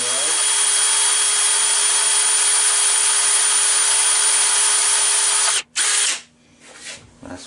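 Power drill boring a hole in metal with a bit slightly smaller than the tap while repairing a Laguna lathe, a loud steady whine running for several seconds, cutting out briefly, then a short final burst and a few faint handling sounds.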